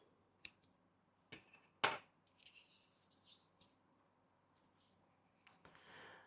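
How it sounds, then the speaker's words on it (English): Scissors snip crochet yarn in a quiet room, giving a few faint, sharp clicks and cuts separated by soft handling noises. "I'm going to chain 1 and cut my yarn."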